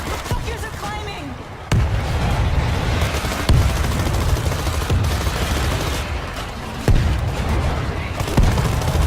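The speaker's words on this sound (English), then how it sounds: "Throwing a grenade." Grenade blast and heavy gunfire in the zombie shooter World War Z, with repeated sharp booming hits over a dense, continuous roar of combat noise and crowd chaos.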